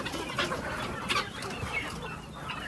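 Guinea fowl in a coop cluck and chatter together in a busy, close flock, with several overlapping sharp calls.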